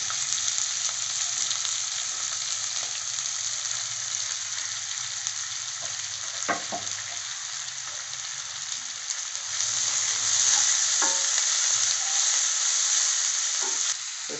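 Chopped shallots frying in groundnut oil, a dense continuous hiss of sizzling close by with a few light stirring clicks, steady throughout and swelling slightly near the end, no talk.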